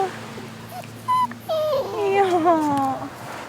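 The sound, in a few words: stray puppy whimpering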